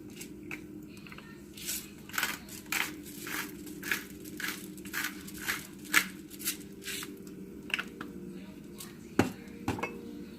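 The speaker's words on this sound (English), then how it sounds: "Give it another stir." Broccoli cheddar soup stirred in a pot, a spoon scraping and squelching in rhythmic strokes roughly every half second, close by and moderately loud over a low steady kitchen hum.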